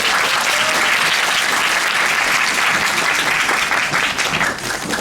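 Loud, sustained applause from a theatre audience for the staff during the closing-night stage greeting of the Korean musical 경종수정실록, a dense, even wash of many hands clapping without pause.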